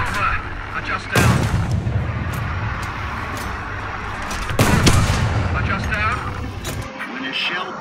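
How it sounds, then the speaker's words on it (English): Tank cannon firing at an enemy tank in War Thunder: two heavy booming blasts with rumbling tails, set against continuous loud engine and battle noise. "Now, fire at the fighting compartment on the tank."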